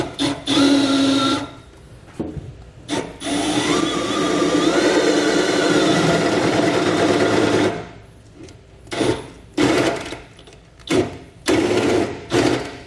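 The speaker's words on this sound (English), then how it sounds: "we need to enlarge those to a 9/16 hole. So we're going to use our 9/16 drill bit" A power drill with a 9/16-inch bit whines steadily for several seconds as it enlarges holes in the metal frame of a 2020 Chevrolet Silverado, then starts and stops in short, loud bursts.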